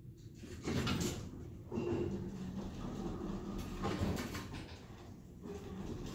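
Doors of a rare Northern Traction service elevator open and shut inside a hotel, heard as rumbling, clattering mechanical movement with a couple of louder surges, continuous and fairly close with no talk.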